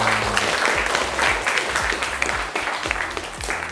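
Classroom students clapping for a student group, a lively, uneven burst of many hands with distinct individual claps standing out, continuing for several seconds.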